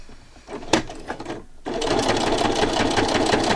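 A sewing machine pushes its needle through thick, glue-stiffened fabric, starting with a few halting stitches and then settling into a loud, steady, fast rhythmic run close by.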